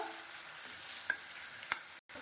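Cabbage in a wok stirred and broken up with a spatula, a soft steady sizzle under a couple of light scraping clicks, with a brief dropout near the end.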